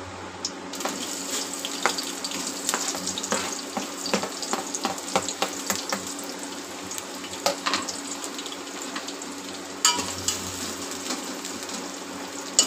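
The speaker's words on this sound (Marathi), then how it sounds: "कांदा मस्त भाजून घ्यायचा परतून." Onion frying in a pan for chicken pulao with whole garam masala, giving a continuous close sizzle and crackle with occasional stirring clicks, and no speech.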